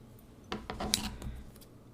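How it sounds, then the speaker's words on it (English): Scissors snip ribbon for a handmade greeting card: a few quick, soft, close cuts clustered together, quiet and alone against a faint room hush. "we're going to cut this there, and then we're going to cut a second piece"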